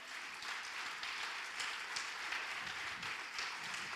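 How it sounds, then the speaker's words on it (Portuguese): Church congregation applauding during a worship service, a steady wash of many hands clapping at moderate level, sustained throughout without any voices. "Aplauda o Senhor"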